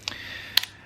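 A Ricoh Jet rangefinder camera's self-timer and shutter, heard as a soft mechanical whir with two crisp clicks, the second a sharp snap with a small echoing tick just after, close and otherwise quiet.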